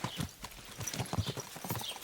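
Horse hooves clip-clopping in the video game Kingdom Come: Deliverance 2, a steady rhythmic series of fairly faint, close hoof strikes with no talking.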